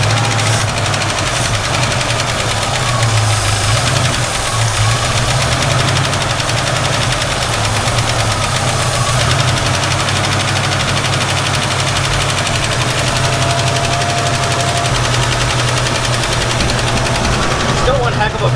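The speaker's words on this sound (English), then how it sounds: "Still one heck of a valve tick" 1967 Ford Mustang engine idling with a pronounced valve tick, a loud, steady rumble with rapid metallic ticking running throughout, with people talking over it.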